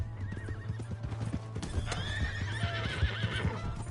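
Video game horse in Fortnite, with rhythmic hoofbeat clip-clops throughout and a loud, wavering whinny rising midway, close and clear.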